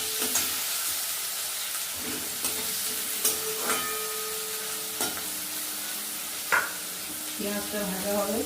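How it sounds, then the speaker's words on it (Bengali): Chopped onions sizzle steadily in hot oil in a village kitchen pan, with scraping stirs and clacks of a utensil every second or so, close and fairly loud. "পেঁয়াজটা ভাজা হবে"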